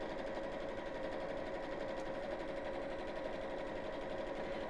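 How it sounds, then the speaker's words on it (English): Sewing machine stitching straight seams on fabric for a ladies' evening bag, a steady continuous motor hum with rapid needle chatter, running alone at an even pace throughout without pause. "So we've got a fair bit of sewing in straight lines now"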